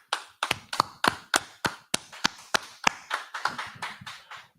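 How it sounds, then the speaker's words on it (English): A small gathering at an ISUPK history class in San Antonio claps in slow, spaced claps, about fifteen distinct sharp hits in an uneven rhythm, close and clear with no talking over them. "clap it up."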